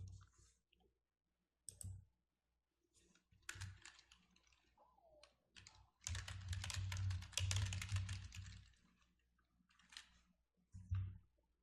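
Computer mouse clicks while opening a cloud drive on screen, a few scattered sharp clicks amid brief keyboard-like tapping, with a denser burst of clatter in the middle and quiet gaps between.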